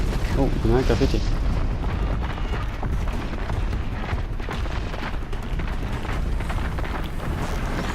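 A robotic machine blows up in the action game Horizon Zero Dawn, a loud booming blast followed by a rumbling, crackling fiery aftermath that fades into sustained roar, with someone speaking French over the noise.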